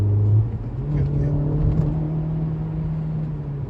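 A manual Honda Civic Type R accelerates in fifth gear, giving a steady low engine drone with a faint whir from inside the cabin, sustained and even throughout.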